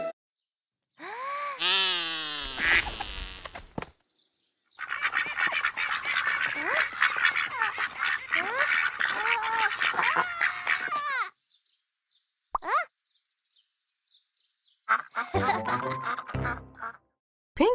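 Cartoon ducks in an animated English lesson quack and honk in loud, busy bursts, with a short flurry of calls near the start, a long dense stretch of overlapping quacking, then a brief pause before a final burst.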